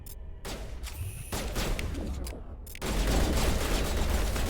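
Shotgun fire in the Mass Effect video game, with dense, continuous blasts and combat noise that swell louder partway through and stay loud to the end, with no talking.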